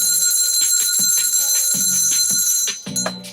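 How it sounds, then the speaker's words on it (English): Alarms ring in a sewing workshop, a loud, steady electronic tone with rapid repeating pulses that continues close up before fading slightly near the end. "Set the alarms off."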